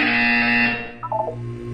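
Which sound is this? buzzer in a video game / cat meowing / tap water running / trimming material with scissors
buzzer in a video game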